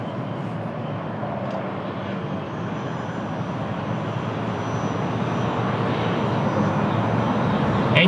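An airliner at Lisbon Airport on a windy day rumbles with a broad, steady engine roar that grows gradually louder across the stretch, with wind noise and no clear talk.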